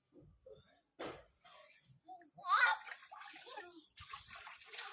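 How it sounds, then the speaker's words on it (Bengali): Water splashing and sloshing in a tub as a father bathes a baby, with bursts of splashing between quieter moments, under an adult voice and a child's sounds. "আজকে পাপা স্নান করিয়ে দিচ্ছে, দেখো বাবু।"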